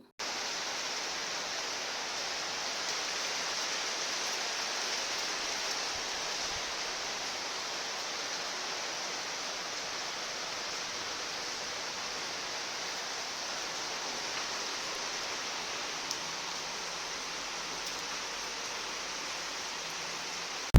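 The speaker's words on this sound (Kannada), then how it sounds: "ಸಿಕ್ಕಾಬಟ್ಟೆ ಜೋರು ಮಳೆ ಬಂತು" Heavy rain pours steadily outdoors as a dense, even hiss that stays constant and loud throughout, with no voices.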